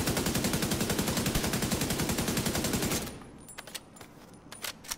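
FAL rifle fired in The Division 2, a fast sustained burst of loud evenly spaced shots for about three seconds, then a few scattered lighter impacts and clicks.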